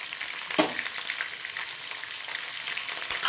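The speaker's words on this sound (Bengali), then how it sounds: "নাড়াচাড়া করে পটলগুলো একটু ভালো করে ভেজে নেব" Pointed gourd (potol) sizzles and crackles as it is stirred and fried in oil in a pan, a dense continuous frying hiss with a sharp scrape of the spatula near the start and no talking.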